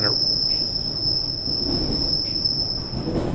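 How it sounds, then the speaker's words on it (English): A steady rumble of train wheels rolling on rails, with a constant high-pitched squeal ringing over the low clatter throughout. "that's the sound of the rails"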